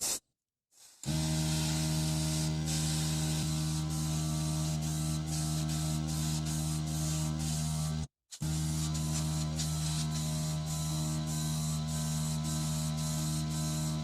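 An airbrush spraying paint onto a spoon hisses continuously with a steady mechanical hum, cutting out briefly twice before resuming.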